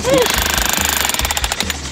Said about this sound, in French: Maintenant on rigole plus, c'est l'heure du marteau-piqueur.